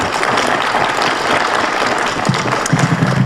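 An audience at a middle school poetry recitation competition gives a round of applause, steady dense clapping from a crowd filling the whole moment, loud and continuous.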